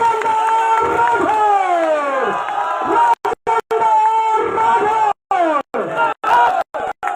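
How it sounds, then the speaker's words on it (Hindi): A crowd at a political rally for a BJP gathering in Taranagar cheers and claps loudly, with many voices shouting and whooping continuously through the stretch, broken by a few sudden cut-outs. "जोरदार तालियां"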